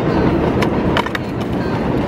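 A loud, continuous rumble of a train rolling past close by, with a few sharp metallic clicks and squeals over the roar.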